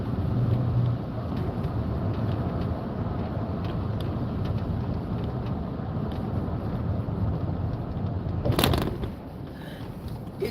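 Continuous road rumble and tire noise from inside a car cruising a highway on a cold day near Eau Claire, with wind buffeting, a steady drone and a brief sharper whoosh near the end, no talking.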